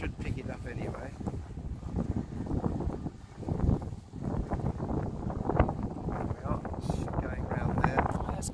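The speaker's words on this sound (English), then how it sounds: "Quite a strong wind on that." Strong wind buffets the microphone outdoors at Judges Point near Rye, UK, a steady loud roar with gusts that swell and fade, with voices talking underneath.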